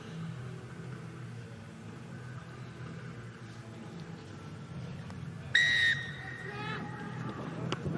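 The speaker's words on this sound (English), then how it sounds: "Rasta Rashavenge blows his whistle" At the kickoff of a 2021 Currie Cup rugby match between the Bulls and Griquas, a referee's whistle sounds one sharp, clear blast over a low crowd murmur and rumble.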